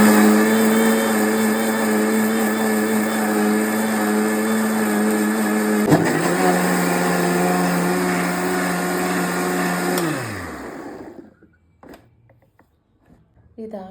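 Mixer grinder running loud and steady while grinding masala with a little water for Kundapura-style prawn curry, a sustained motor whine with a brief pitch shift midway, then winding down and stopping near the end, leaving quiet clatter.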